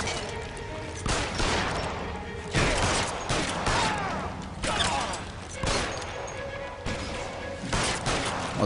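Gunshots in the L.A. Noire video game on PS3, a series of loud, sharp bursts spaced about every second or so over eight seconds, each with a crashing impact and reverberant tail.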